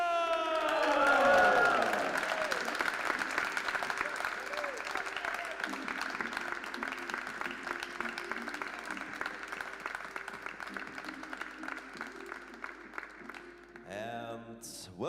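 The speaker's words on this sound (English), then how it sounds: "Give a big hand of applause for Kelly Fisher!" A crowd applauds and cheers for a pool player introduced at a women's 10-ball world championship semi-final, with whoops and shouts over sustained clapping. An announcer's voice rings out at the start, and the cheering fades near the end.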